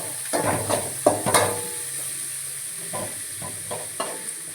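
Masala for chicken curry is stirred in a pan with a low sizzle, broken by a few distinct scrapes and knocks of the spoon, then quieter pauses, and no voices.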